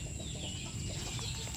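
A rooster clucks softly and intermittently at feeding time on a home farm, the low calls close by over a steady background hum and scattered rustling.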